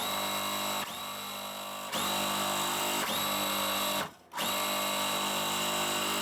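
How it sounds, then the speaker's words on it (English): A sewing machine stitches quilt block pieces with a loud, steady mechanical whir, stopping briefly twice before starting again, close up and with no speech. "So I'm just going to sew the right side."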